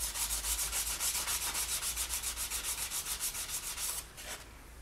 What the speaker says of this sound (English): I'll sand all these backs and all the sides, and then we can coat it with resin.